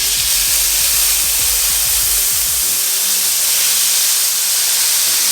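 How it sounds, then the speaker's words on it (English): Port hitting a hot pork tenderloin pan, a loud close rush of steam and spitting hiss that churns with low bubbling at first, then settles into a steady hiss. "We're going to deglaze the pan with our port"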